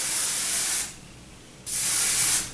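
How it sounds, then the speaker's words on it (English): Light hold hairspray hisses from an aerosol can onto hair in two close, steady bursts, each under a second long, separated by a short quiet pause. "And this is still with the light hold hairspray."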